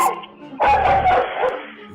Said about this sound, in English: that little white dog had other plans, and he barked louder than their courage